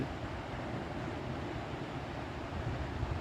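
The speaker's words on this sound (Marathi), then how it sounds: "समुद्राच्या लाटा" Sea waves at Dapoli beach wash in as a steady, even roar of surf with a low rumble, a constant hiss throughout and no clear individual breaks.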